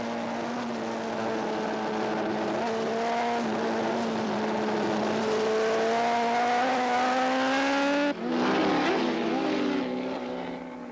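Freddie Spencer's racing motorcycle at full speed in the closing laps of a superbike race, with a loud, sustained engine whine that rises steadily in pitch, then cuts briefly and climbs again as the gears change.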